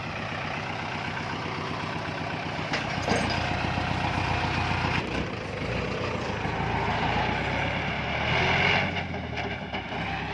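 A Kubota L5018 50 hp tractor engine, ploughing under rice paddy, rumbles steadily and loudly throughout with no talk, swelling slightly in a few spots.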